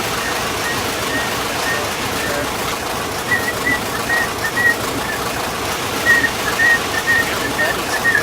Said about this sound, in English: Whistle, actually.